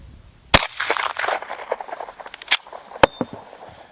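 A Lightning rifle fires a cartridge with a sharp, close, loud crack, followed by a couple more sharp impacts and scattered mechanical clatter of the action.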